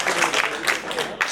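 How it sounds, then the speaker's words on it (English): Audience applause at an inter-school quiz grand finale, a short burst of dense clapping from a crowd, fairly loud and continuous with no talking. "Please clap once again for both the teams who got it right."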